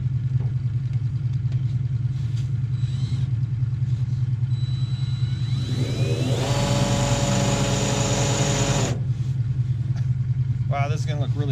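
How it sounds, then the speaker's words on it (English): A power drill fitted with a smaller bit bores into metal while installing an exhaust stack on an early 1947 GMC 1.5-ton truck, spinning up to a steady, loud whine for about three seconds amid background noise. "let's go to a slightly smaller drill bit and see if we can"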